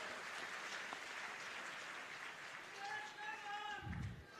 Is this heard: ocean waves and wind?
no